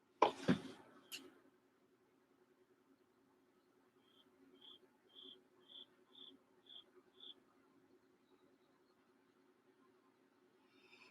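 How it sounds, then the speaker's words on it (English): A single cricket chirps in a short, evenly spaced series of about seven faint, high pulses after a loud knock, in an otherwise quiet room. "yeah, we got a cricket here."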